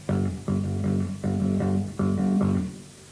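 A bass plays a repeating eighth-note-and-two-sixteenths figure in a heavy metal lesson, about four clear groups of notes, close and fairly loud with no other instruments.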